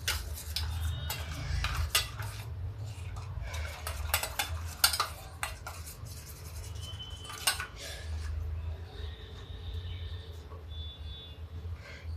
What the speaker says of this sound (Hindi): अब इसको हम मिक्स कर लेते हैं।